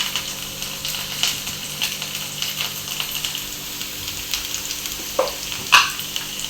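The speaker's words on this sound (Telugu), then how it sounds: "మనం కరివేపాకుని తీసి కొంచెం దానిలో వేసుకోవాలి" Curry leaves frying in hot oil in a pan, giving a steady soft sizzle with light stirring clatter and a couple of sharper pops near the end, no talking.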